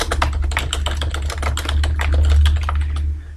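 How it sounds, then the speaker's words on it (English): Keys on a computer keyboard, including the Insert key, are pressed in a fast run of sharp, close, loud clicks with a low hum underneath. "On my keyboard, I'm going to press the Insert key 8 times."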